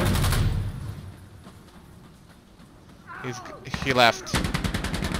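FN FAL rifle fire in Insurgency Sandstorm: after a quieter stretch, rapid loud bursts of close gunshots ring out in quick succession, and a voice speaks briefly.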